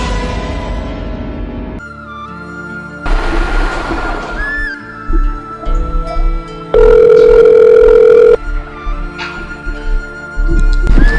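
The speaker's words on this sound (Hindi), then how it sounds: "Lucy. फोन उठाओ, उठाओ एक बार फोन उठाओ।" A telephone rings in repeated electronic bursts during a film scene, loud and close, alternating with quieter stretches of background music and room sound.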